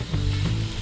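Squid pieces sizzling on a hot oiled grill, a close, steady frying hiss with a low hum underneath for just under a second.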